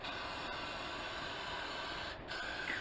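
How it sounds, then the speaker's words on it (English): A can of wig glue spray gives a continuous close hiss that breaks off briefly near the end and then resumes. "you're just going to, spray this part behind your natural hairline."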